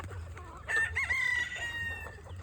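A rooster crows nearby over the soft clucking of free-ranging country chickens eating feed, with a low steady hum in the background.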